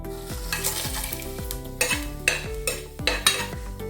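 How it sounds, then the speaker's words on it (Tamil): Cinnamon and cloves sizzling in hot oil for mutton bone soup, a constant crackle broken by rhythmic metal spoon strokes scraping the pan, close and loud with no talk. "இப்போ எண்ணெய் காய்ஞ்சது நம்ம எடுத்து வச்சுருக்கிற பட்டை, கிராம்பு எல்லாமே போட்டுக்கலாம்"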